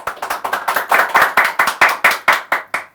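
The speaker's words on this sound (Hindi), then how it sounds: "अगर चुभ रही है तो सब एक बार जोरदार तालियां बजाएंगे।" An audience claps loudly in unison, about fifteen strong, evenly spaced claps in a steady rhythm, close and crisp with silence between beats.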